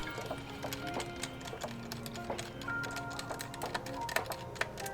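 Small screws being undone on a Samsung Galaxy XR headset, a quiet run of light clicks and tiny metallic ticks at an uneven rhythm, close up with faint background hum.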